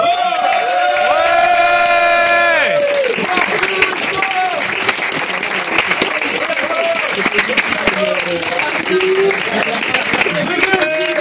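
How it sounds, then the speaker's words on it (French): A standing audience gives loud, sustained applause with cheers and whoops at a live show, while music with held tones plays at the start and a voice carries over the clapping. "Je vais vous demander de vous lever pour leur faire un tonnerre d'applaudissements."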